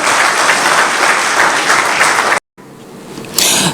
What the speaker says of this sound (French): Est-ce que nous pouvons acclamer pour le chef de l'État?